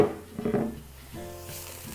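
Chicken fat melting down in a hot pan for Hainanese chicken rice, giving a close, steady sizzle with a brief stir or pan clatter near the start and no talking.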